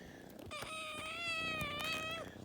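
Two young kittens meow in high, drawn-out cries, one long plaintive call dominating the moment, close to the listener over a faint background hum, with no speech.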